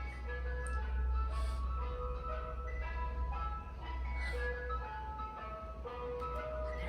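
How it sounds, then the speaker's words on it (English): An ice cream truck plays its chiming melody, a steady sequence of bright tonal notes carried over a constant low engine rumble at moderate distance, with no one talking. "There's the ice cream truck."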